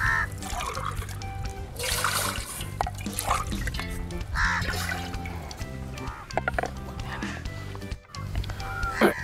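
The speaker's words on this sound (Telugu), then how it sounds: "సో ఇది మా మెజరింగ్ గ్లాస్ 3 కప్స్ వాటర్ పోసుకుంటున్నాం." Three cups of water are poured from a measuring glass into a cooking pot while making ragi sangati. The splashing comes in several short bursts under steady background music.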